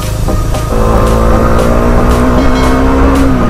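A modified motorcycle engine runs loud and close, its throaty hum holding steady and then climbing slightly in pitch as the throttle is worked, with faint rhythmic pulses underneath.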